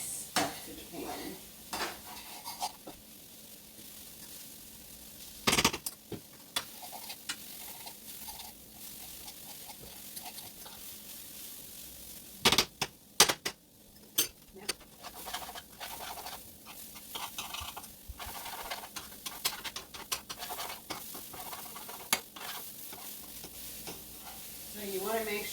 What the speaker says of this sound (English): I want it to brown, but I don't want it to get stuck to the pan